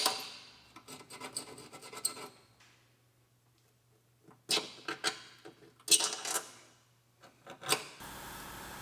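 Scraping rust off a rotted steel frame rail on a Chevrolet Equinox, heard as short bursts of rough, gritty scratching separated by pauses, close and fairly loud.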